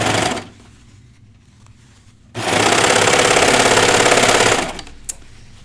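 A home sewing machine stitches jeans in a loud, fast, steady whirring burst of about two seconds, with quieter motor hum before it and a short click after.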